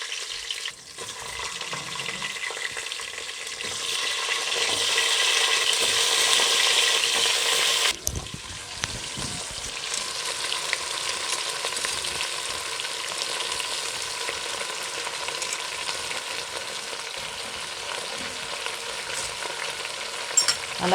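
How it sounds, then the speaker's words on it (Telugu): Vegetable pieces dropped into hot tempering oil with mustard seeds, cumin and slit green chillies, hissing in a loud continuous sizzle with stirring scrapes, a sharp burst as more pieces go in midway, then steady frying. "ఇక దీంట్లో ఒక్కొక్కటిగా అన్ని ముక్కలు వేసేసుకోవాలండి."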